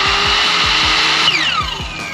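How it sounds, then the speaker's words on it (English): Power tools cut wood during a RAM ProMaster van conversion with a loud, sustained high whine over rhythmic low thumps, and the pitch drops as the tool winds down near the end. "Fire! I mean, power tools."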